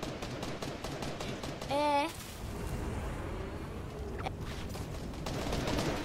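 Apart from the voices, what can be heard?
weapon gunshots, from video game Fortnite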